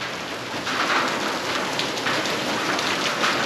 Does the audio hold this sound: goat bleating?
no